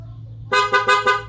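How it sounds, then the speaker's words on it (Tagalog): A loud, bright aftermarket horn on a Yamaha NMAX motorcycle honks four quick times in a row, close up, over a low idling hum. "So bili kayo ng Pia Horn para maganda yung tunog"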